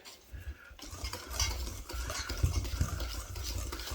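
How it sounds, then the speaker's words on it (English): A whisk scrapes and stirs through peach coffee cake batter in a bowl, mixing dry ingredients into wet with continuous rhythmic swishing and light tapping, close and fairly quiet. "I'm using a whisk because it's the quickest way to get your dry ingredients incorporated with your wet ingredients"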